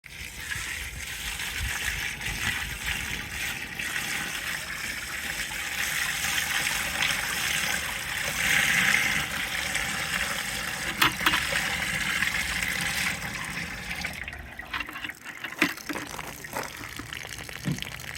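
Water gushes and splashes steadily into a homemade steam wax melter for processing brood comb and beeswax cappings, a continuous close pour with brief clunks near the end.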